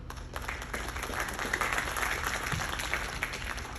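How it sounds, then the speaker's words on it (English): Steady applause from an audience aboard a cruise ship, a dense wash of clapping filling the whole stretch at an even level. "a round of applause"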